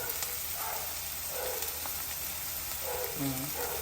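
Onions and curry leaves fry in a pan for cabbage poriyal. A soft, steady hiss of sizzling oil runs throughout, and a voice speaks quietly over it.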